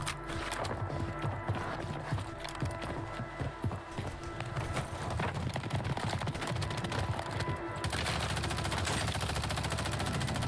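Rapid machine-gun fire in the Black Ops 6 shooter, dense and sustained bursts of gunfire layered with other battle noise, loud and continuous throughout.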